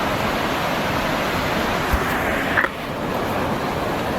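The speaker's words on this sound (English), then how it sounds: "this is truly one of the best waterfalls" Mesa Falls waterfall roaring as a loud, steady broadband rush of falling water, close and continuous with no voices.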